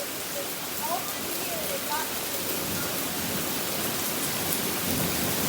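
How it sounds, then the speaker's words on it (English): Heavy rain falling after small hail, a constant loud wash of drops with a low rumble of thunder underneath. "it looks like all the hail now transitioned back into rain again."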